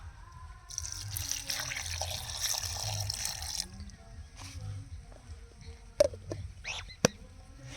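Water poured into a mixer jar of finely chopped coconut for a coconut paste: a steady splashing pour for a few seconds, then quieter dribbles and a couple of sharp knocks.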